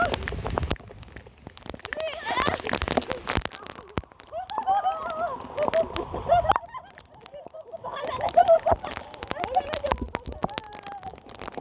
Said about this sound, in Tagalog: Masarap paligo sa ulan.